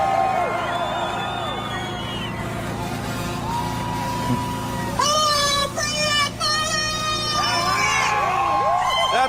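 A crowd at the Freedom Convoy protest in Ottawa cheers and whoops loudly and continuously. Horn-like blasts and voices mix into the steady outdoor roar.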